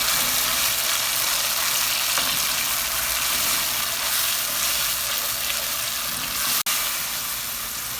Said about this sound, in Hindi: गरम ऑयल में टमाटर का पेस्ट डाल देंगे।